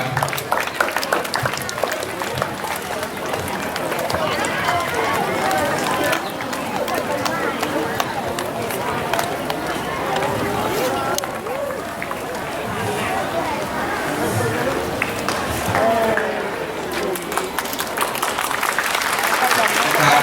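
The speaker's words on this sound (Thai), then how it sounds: "ขอเสียงปรบมือด้วยครับ ปรบไปเรื่อยๆครับ" A crowd claps steadily at the opening ceremony of a Thai school's internal sports day, as the torch is lit. Dense, sustained applause runs the whole stretch, with an announcer speaking over it on a loudspeaker.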